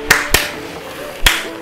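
Three sharp hand claps, two quick ones close together then a longer pause before a delayed third, done as a timing trick in the Dragon Ball Legends game during a rising rush.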